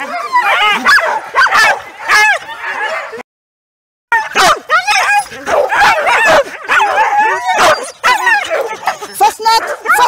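Pack of lean competition sled dogs at a morning training session, barking, yelping and whining continuously in a dense, loud overlapping chorus, broken by one brief silent gap.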